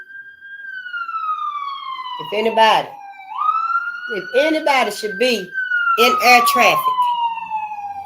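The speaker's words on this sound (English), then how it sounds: "Yeah, that's the ambulance." An ambulance siren passing, a loud wailing tone sweeping steadily up and down over several seconds, with people talking over it at intervals.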